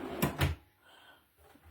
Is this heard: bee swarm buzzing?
no